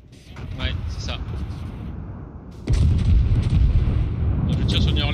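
Heavy main-battery salvo from the battleship Iowa in World of Warships, a deep booming blast that swells midway and rumbles on at length, loud and close, with scattered game sounds around it.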